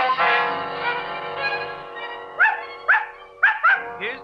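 A dog barks in an old-time radio drama, first a drawn-out whining yelp, then four or five short sharp barks close to the microphone with no talk over them.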